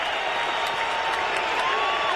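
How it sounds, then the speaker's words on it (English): A packed stadium crowd of Buffalo Bills fans roars and cheers at a 1999 Raiders at Bills football game, a dense, steady wall of noise throughout with no lull. "This crowd is packed, and they are excited about their Buffalo Bills."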